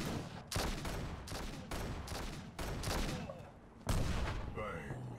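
Rapid bursts of gunfire from the mobile shooter game Gods of Boom crack out in several loud volleys separated by brief gaps, with the final burst trailing into quieter game noise.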